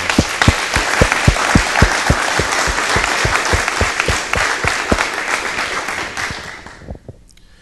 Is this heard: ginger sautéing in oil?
no